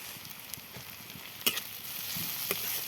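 Egg with chopped spring onions sizzles steadily in a pan while being stirred, with a few sharp spatula scrapes standing out over the constant frying hiss.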